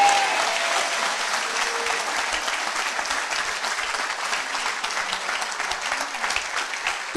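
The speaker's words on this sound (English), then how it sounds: "Are you clapping for Jesus Christ?" A church congregation claps steadily and loudly for about seven seconds at a charismatic prophecy service, a dense, sustained wash of many hands with no break and no speech over it.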